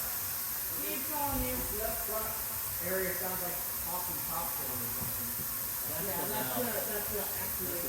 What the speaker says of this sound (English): I think what you're hearing is the actuator